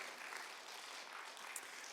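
Steady applause from a church congregation, many hands clapping evenly for a couple of seconds, moderately distant and without talk.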